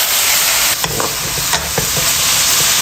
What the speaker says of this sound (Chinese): 准备好的菜下进来，大火翻炒几下